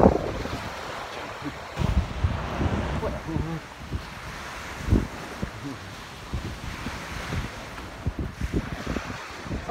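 Ocean waves wash onto the beach at Nagahama coast, a rough, continuous roar of surf with surges and wind buffeting the microphone, fairly loud and close throughout.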